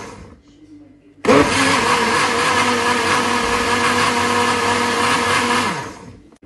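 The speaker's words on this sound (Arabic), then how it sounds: "نحط كل الخليط بتاعنا في الخلاط، اللي هو البيض والشوكليت والزيت واللبن والسكر" Kitchen blender whirring loudly and steadily for about five seconds as it mixes eggs, chocolate, oil, milk, sugar and vanilla for a chocolate cake batter, starting abruptly and running continuously before winding down.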